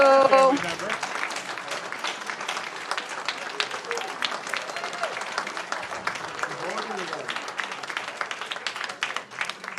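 Audience applause for the family members and spouses of newly elected town council members at a swearing-in ceremony, a sustained round of clapping lasting throughout with brief talk at the start.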